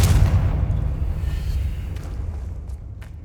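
A single deep blast from the Confringo explosive spell in Hogwarts Legacy, with a loud, heavy boom at the start that rumbles and slowly fades away.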